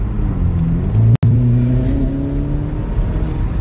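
A Ferrari engine revs hard under acceleration, a loud close whine that climbs steadily in pitch, briefly cut by a short gap, then carries on accelerating.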